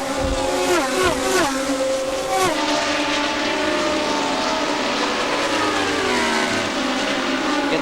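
Indy race cars at the 2000 Delphi Indy 200 screaming past one after another, several sharp engine-pitch sweeps early, then a sustained high whine from cars racing in close company.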